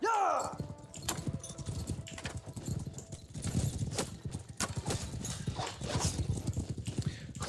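Horses gallop in a steady, fast clatter of hooves in Mount and Blade, moderately loud, with some rumbling battle noise around them.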